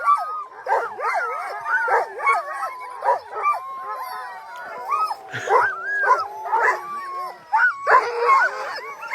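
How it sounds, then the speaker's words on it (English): Several sled dogs howl and yip together in a wavering chorus at night in -40F cold at a race checkpoint on Tolsona Lake, with overlapping rising and falling wails, some whimpers, and occasional brief barks, fairly close. "we might get a big howl out of this"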